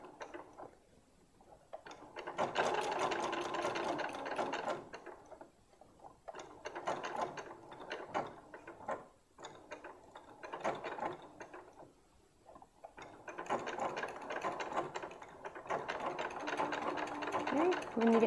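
A sewing machine stitches a sock while making a sock monkey, running in several steady mechanical bursts separated by short pauses, with a faint voice talking quietly between them.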